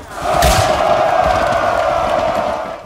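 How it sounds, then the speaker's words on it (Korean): Massed soldiers of the Soviet army roaring a battle cry, heard as a loud, sustained crowd shout that rises quickly after a thud and holds steady for over two seconds before fading slightly. "소비에트군의 함성,"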